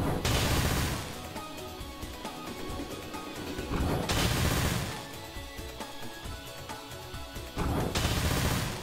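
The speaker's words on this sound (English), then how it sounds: "Fireworks!" Video game fireworks in Freedom Planet burst in dense crackling volleys, loud and close, with three big bursts roughly every four seconds over a busy music bed.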